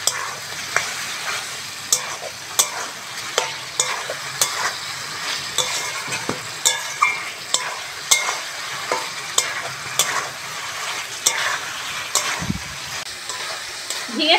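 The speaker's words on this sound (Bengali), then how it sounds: "ঝিঙের সঙ্গে মশলাটা আবার ভালো করে কষবো" Spices are stir-fried with ridge gourd and green chillies in a pan for Bengali fish curry, with a continuous oily sizzle and regular scraping spatula strokes recurring every half second or so, close and fairly loud.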